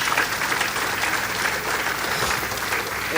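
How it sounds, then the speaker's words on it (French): A congregation applauds and cheers at a Christian testimony gathering, a steady dense wash of clapping that fills the space evenly with no voices rising above it. "Est-ce qu'on peut acclamer pour Jésus-Christ?"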